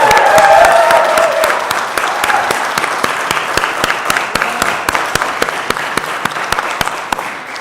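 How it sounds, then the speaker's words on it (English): Audience applause at the NASDAQ closing bell ceremony in Times Square, with students present: loud, dense clapping that begins with cheering and then thins into sharp, spaced individual claps, along with a sharp recurring click or bell-like ticking. "How about a round of applause and let's kick it off."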